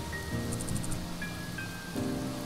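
Rain falls softly in a visual novel game, a faint steady patter sitting beneath tonal music and chiming game sounds.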